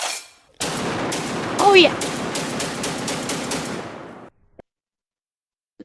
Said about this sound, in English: I think the best way to check the function of this gun is by doing a mag dump